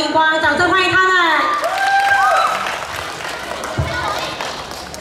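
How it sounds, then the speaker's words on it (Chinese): Audience applause and clapping break out at a school class singing competition, a steady crowd roar that follows a voice heard over it at the start. "掌声欢迎他们"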